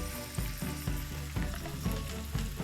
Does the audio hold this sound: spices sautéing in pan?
yes